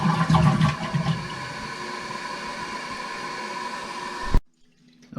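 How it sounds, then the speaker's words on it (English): A toilet flushes after its leaking flapper has been replaced, a loud, broad rush of water that holds steady for about four seconds, then cuts off abruptly, leaving near silence with a faint trickle as the tank begins to refill. "So let's go and flush it, and then we'll let it fill back up"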